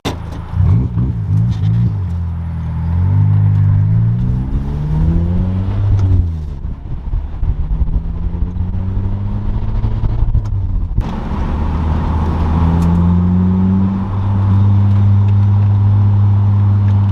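A 2006 Lotus Elise drives and accelerates hard through several gears, its engine note rising and falling with each shift, loud and close, with no talking.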